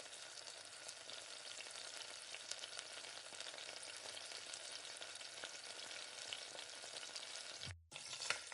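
Masala for paneer butter masala fries steadily in hot oil while being stirred, a dense continuous sizzle with scraping, cutting out briefly near the end before resuming.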